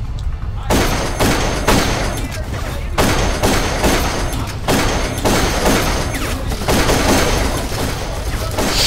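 Rapid, heavy gunfire and booming blasts from the Darkest of Days video game, set in Pompeii, pound continuously and loudly in repeated bursts throughout, with a voice speaking over the shooting.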